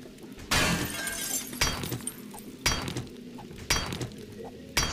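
Pickaxe strikes breaking an object in the video game 7 Days to Die: about five sharp, crunchy impacts at roughly one-second intervals, loud and close, each with a brief shattering tail and no talking.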